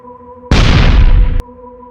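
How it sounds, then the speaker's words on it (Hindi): A single loud, close firecracker blast that holds as a harsh roar for about a second, then cuts off abruptly against a quiet hum. "पटाखा जोर से फटता है।"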